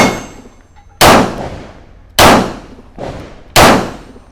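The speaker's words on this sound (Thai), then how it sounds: "อันนี้เดี๋ยวจะลองยิงเร็วๆดูนะอ่า" A Tisas Zig14 pistol, a Browning Hi-Power style handgun, fires live rounds in quick succession: four loud, sharp cracks with ringing tails, spaced roughly a second apart, with no voices.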